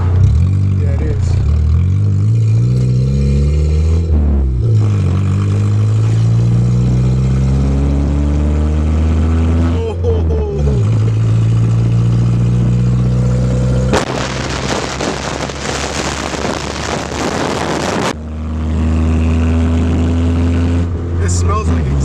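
An old Volvo 240 engine turns over and catches, then idles with a rough, steady rumble, a burst of harsher clatter partway through, while people talk nearby.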